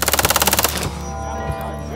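An MP5 submachine gun fires a rapid, loud full-auto burst of about a dozen evenly spaced shots at an outdoor range, then stops, leaving a brief ringing tail.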